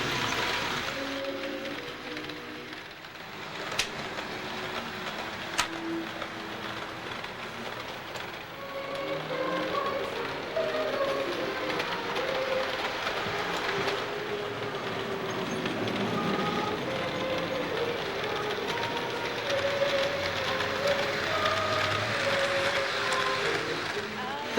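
A small garden train runs at McLaughlin's Gardens, giving a steady, moderately loud rumble with faint squeals over the whole stretch and people talking in the background.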